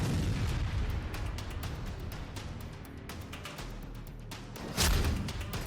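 An explosion destroys a boat at sea after a strike, giving a loud booming burst with a sharp surge near the end over a steady rumbling background.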